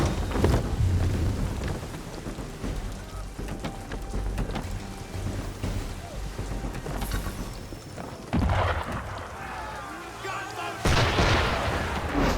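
Cannon fire from a ship in Assassin's Creed III, heavy booming blasts rolling over a loud, continuous wash of wind, rain and sea noise, with a big burst near the end.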